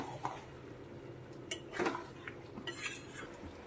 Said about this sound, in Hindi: धनिया पत्ता को अच्छी तरीके से मिला लिए।